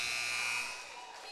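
Loud end-of-period buzzer at a senior boys basketball championship game in a gym, one steady electronic blare lasting about a second before it fades into crowd noise.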